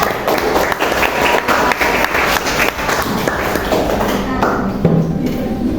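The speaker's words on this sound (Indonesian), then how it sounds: "Kasih tepuk tangan dulu untuk kelompok berapa?" A class of students applauds a student group, a steady wash of hand claps lasting several seconds, mixed with chatter and voices throughout.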